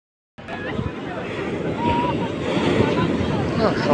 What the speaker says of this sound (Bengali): এই উত্তাল সাগরে ছোট ছোট জেলেরা ছোট ছোট নৌকা নিয়ে সব পাড়ের দিকে ফিরছে।